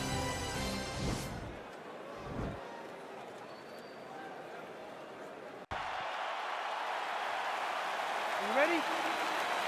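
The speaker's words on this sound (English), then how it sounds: "crowd getting excited as this fight gets underway" A virtual arena crowd in a UFC video game roars as a middleweight title bout begins, a steady, dense wash of cheering that swells in the second half after a commentator's voice.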